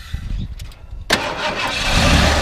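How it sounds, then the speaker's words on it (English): A 1990 Ford F250 XLT Lariat pickup's engine cranks and catches with a sharp burst, then settles into a steady, fairly loud idle close by, with no talk over it. "Go ahead and start it up."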